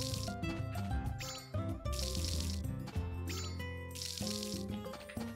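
Crops being watered in the farming game Story of Seasons: A Wonderful Life in winter, with short splashy pours in repeated bursts over loud, steady background music.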